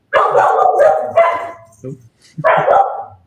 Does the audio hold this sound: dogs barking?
yes